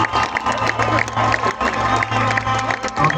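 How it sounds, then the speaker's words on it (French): Audience applause and cheering for a violinist at the Miss Roussillon pageant, a dense, sustained crowd roar of clapping and shouts throughout, loud and close. "Applaudissements s'il vous plaît pour notre violoniste Lisa Yang."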